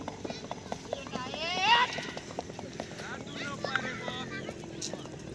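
Several horses racing: rapid clip-clopping hooves drum steadily beneath loud talk and crowd noise, with a whinny-like cry briefly rising above them.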